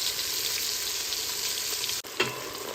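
Beef stew meat browning packed tightly in a large pot, a dense, even, loud sizzle that briefly drops out, then a soft thump and the hiss resumes.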